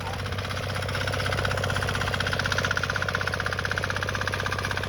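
SHARP GARUDA mini weeder diesel engine running steadily nearby, a loud continuous rapid chugging thump with no pauses.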